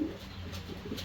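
A racing pigeon coos softly at a pigeon race derby, a single quiet, low, throaty call close by with no one talking.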